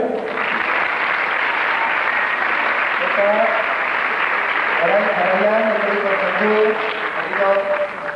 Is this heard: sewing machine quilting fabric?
no